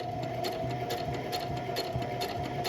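A sewing machine stitches a slouchy tote bag, its needle running in a steady, even rhythm close by, with a constant mechanical whir and no talking.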